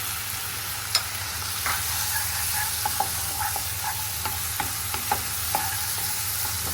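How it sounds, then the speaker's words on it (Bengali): Beef kidney is poured into a hot frying pan and stirred, giving a steady loud sizzle and hiss with scattered small taps and scrapes of the utensil, close by and without talk. "এখন আমি এই গুড়দাটাকে ঢেলে দিচ্ছি"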